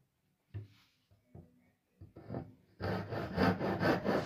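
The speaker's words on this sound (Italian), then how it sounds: "posso girare la sega ed essere un po' più aggressivo" A Japanese ryoba hand saw rasps through wood, a few light scattered strokes at first, then fast, forceful, rhythmic sawing.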